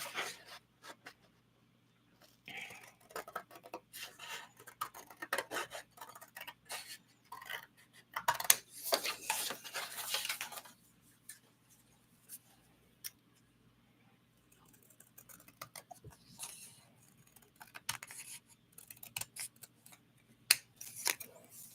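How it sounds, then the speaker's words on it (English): Scissors snip through cut-apart paper cards to free a film strip shape, a close, quiet run of irregular crisp cuts and rustles over faint room hum. "So I'm just going to cut one out of these cut apart cards."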